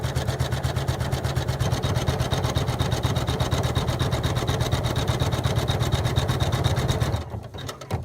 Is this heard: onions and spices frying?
no